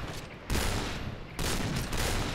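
Gunfire in the Point Blank shooter game: loud, dense bursts of rapid shots in two or three volleys, close and harsh, with no talk over them.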